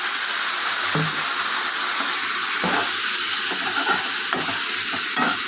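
Turmeric and other ground spices fry in oil with a splash of water for a tilapia curry, a loud continuous sizzle broken by several scraping stirs of a spoon in the pan, close up and with no speech.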